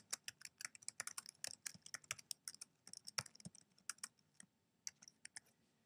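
Rapid, close keystrokes on a computer keyboard type out a document name in quick irregular bursts, with no talking.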